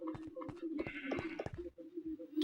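A goat bleats faintly in a quiet setting, a short wavering cry among soft background rustles.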